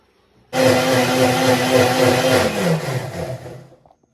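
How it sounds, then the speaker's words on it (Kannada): A kitchen mixer grinder grinds cloves, cardamom, cumin, pepper, onion and garlic with a little water into paste for chicken fry masala. The loud motor whirs on abruptly, runs steadily for about three seconds, then winds down. "ಇಷ್ಟನ್ನು ರುಬ್ಕೋಬೇಕು ಸೊ ಇದನ್ನು ಪೇಸ್ಟ್ ಮಾಡ್ಕೊಳ್ಳೋಕ್ಕೆ"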